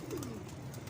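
A brief, soft coo from a high-flyer pigeon, a low murmuring call heard close by.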